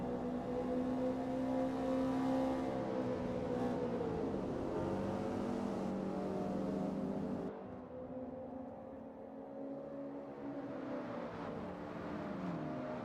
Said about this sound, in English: that BRZ sounds pretty good